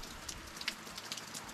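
Steady patter of rain falling in the Black Forest, a soft continuous hiss with scattered drop ticks, fairly quiet and without voices.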